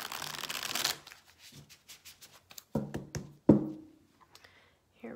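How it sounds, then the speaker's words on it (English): A deck of tarot cards is riffled in a quick shuffle, a dense burst of papery rattling for about a second, followed by scattered soft taps and thunks as the deck is split and cards are set down. "One more quick shuffle. We'll split the deck."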